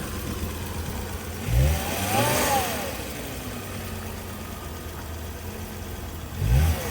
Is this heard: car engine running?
yes